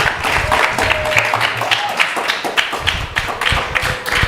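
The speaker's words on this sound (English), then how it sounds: "Please give Prabhu another big round of applause." Audience at a Sunday feast class in an ISKCON temple gives the speaker a big round of applause, loud, steady clapping filling the room close by, with a faint murmur of voices underneath.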